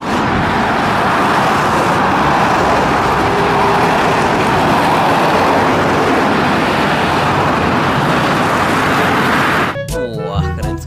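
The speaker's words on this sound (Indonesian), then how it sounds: "Di sini ada truk pengangkut ekskavator." A truck carrying an excavator drives past with a loud, steady, broadband road roar lasting about ten seconds, then cuts off as a short voice-like sound appears at the end.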